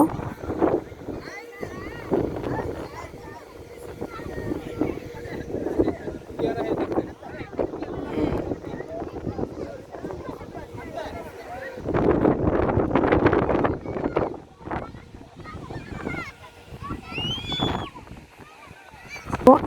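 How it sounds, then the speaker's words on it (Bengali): Strong wind buffets and rumbles across the microphone in gusty surges by the sea in Jeddah, with voices talking intermittently beneath the roar. "অনেক অনেক বাতাস দেখেন মানে শো একটা বাতাসের শব্দ"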